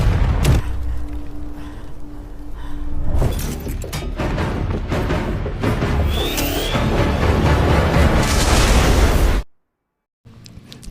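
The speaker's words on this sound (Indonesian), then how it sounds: "si Bambang berhasil menghindari ledakan besar itu yang menghancurkan fasilitas tambang dan robot killer." Film explosions from bombs destroying a mining facility and killer robots in the movie War Machine: heavy booming blasts and rolling rumble with crackling debris, loud and continuous, ending abruptly in silence.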